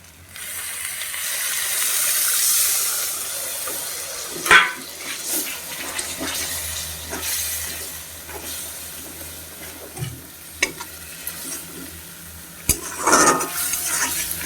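Pointed gourd korma with chili and turmeric stirred and fried in a pan: a soft hiss with scraping spoon strokes and a few sharp clinks against the pot, no talking.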